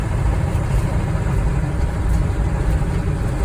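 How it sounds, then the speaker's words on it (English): A converted Ford E450 shuttle bus with a 7.3 liter diesel, lightly loaded, rumbles down the road with steady low engine drone and road noise filling the cabin, unbroken and with no voices. "the bumps and the road noise is pretty incredible"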